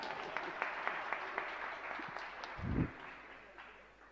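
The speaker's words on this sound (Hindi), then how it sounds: "आपकी तालियों से ज्ञात होता है कि आप सुन रहे हैं" Audience applause at a Jain religious discourse by Acharya Vidyasagar Ji Maharaj, a steady mid-level clapping from a seated crowd with a few sharper individual claps, swelling briefly near the end before fading.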